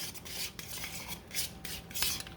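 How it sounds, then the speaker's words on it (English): Spoon stirring protein chaffle batter in a bowl, a close, soft rhythmic scraping and rasping repeated several times in quick strokes, quiet and without speech. "We're just going to stir this right in."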